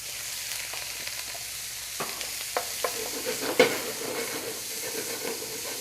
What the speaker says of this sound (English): I'll throw the sausage and the peppers and the onions in there right away